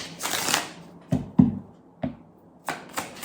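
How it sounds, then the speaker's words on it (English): Tarot or oracle cards are shuffled by hand, with a riffling burst, several sharp taps and knocks of the deck, then another riffle, all close and loud. "One shuffle."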